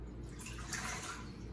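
Water pours steadily into an Instant Pot, a continuous close splashing rush with no break.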